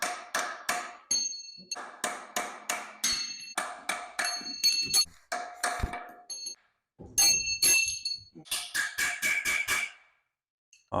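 Repeated metallic hammer taps drive an engine front seal into place with a front-cover alignment tool on a 5.3 Vortec engine, coming in quick rhythmic bursts of ringing clinks with short pauses, close and fairly loud.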